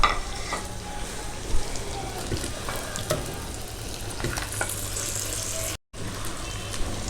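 Potato curry with ground roasted spices being stirred in a pan, close sizzling frying noise with repeated spoon scrapes and clinks, steady throughout with a brief dropout near the end.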